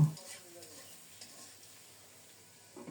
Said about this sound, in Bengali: আলুগুলো একটু ভেজে নেব